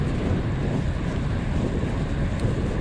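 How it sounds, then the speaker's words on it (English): Steady, loud wind buffeting the microphone while riding a Lapierre e-Crosshill 5.2 electric gravel bike downhill on an evening trail near Caerphilly, a constant roar with no speech. "it's definitely quite a blowy ride"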